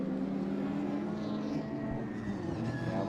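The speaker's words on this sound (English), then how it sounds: "opens the taps of the big Nissan engine in the back" A rallycross car with a big rear-mounted Nissan engine runs at full throttle on the main straight at Mondello Park, a steady, dense engine roar held for three seconds at moderate distance.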